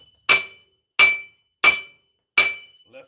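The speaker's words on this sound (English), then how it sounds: "We're gonna tap the old bearings," Four sharp metallic hammer taps on the old wheel bearings of a 2014 Dodge Ram 1500, evenly spaced and close, with ringing clinks and silence between strikes.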